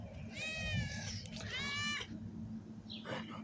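A cat gives two clear, drawn-out meows close by, one after the other, followed by quieter rustling and faint murmurs.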